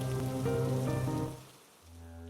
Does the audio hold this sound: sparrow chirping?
no